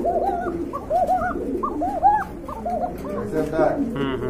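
Pigeons on sale at a bird seller coo repeatedly in rolling, overlapping calls close by, mixed with people talking throughout.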